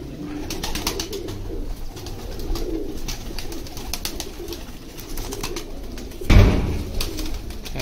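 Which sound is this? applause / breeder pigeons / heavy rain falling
breeder pigeons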